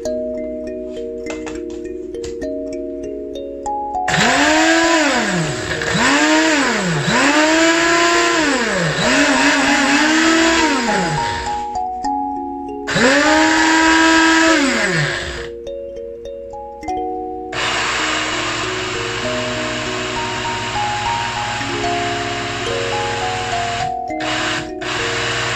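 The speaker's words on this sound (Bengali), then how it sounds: "আদাতে বেশি পানি দিতে হয় না, একটু ব্লেন্ড হলেই এটা থেকে পানি বের হয়" An electric blender grinds ginger with very little water. Loud motor whine comes in pulsed bursts that rise and fall in pitch, with short pauses between runs, then a steadier final run with no talking.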